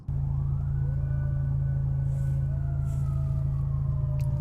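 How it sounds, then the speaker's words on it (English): A fire truck siren rises and wails over a loud, steady low engine rumble, close by, with brief faint noises mixed in. "Fire truck."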